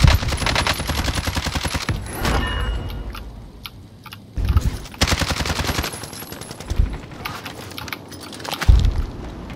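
Gunfire rattles through a battle royale video game match in repeated automatic bursts and single loud shots, some near and some more distant, with brief lulls between exchanges.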